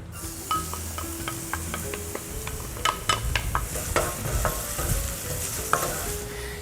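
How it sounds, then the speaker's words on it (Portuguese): Garlic fries in olive oil left over from cooking potatoes in a pan, giving a steady close sizzle and hiss with scattered crackles and utensil stirring throughout. "eu vou fritar o alho."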